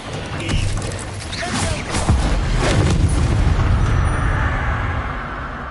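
Booming blasts and crashing impacts from spells cast in a Harry Potter video game, a loud rumbling roar that swells and holds with layered debris and rattles.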